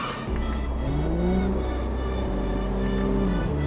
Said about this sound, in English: We can, you know, hear a little bit more of the engine, which should be cool.